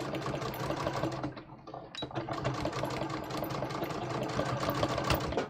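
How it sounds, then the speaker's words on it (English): A sewing machine runs steadily, stitching a pinned fold on a lined dress, with a close mechanical whirr and a brief slowdown partway through; no one speaks. "I'm going to start sewing like that."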